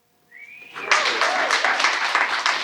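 At a Catalyst Live event during SF Climate Week, a brief tone gives way to a sudden, loud burst of audience clapping and cheering that holds steady to the end, answering a poll question.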